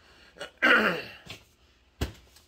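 Close, sharp coughs and throat-clearing: one heavy burst followed by a couple of shorter hacks, with brief pauses between.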